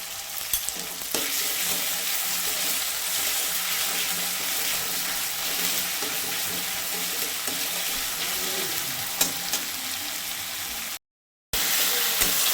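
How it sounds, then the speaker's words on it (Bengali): Tomatoes and onions fry in a pan with a loud, steady close-up sizzle and occasional stirring scrapes, continuing for several seconds before a brief cut to silence and then resuming. "টমেটো আর পেঁয়াজ ভাজা হয়ে গেছে এখন একটু রসুন বাটা দেবো"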